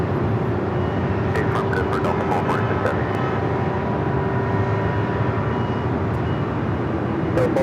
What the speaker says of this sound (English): the Air Tahiti Nui Dreamliner 787-9 Dreamliner heading to Paris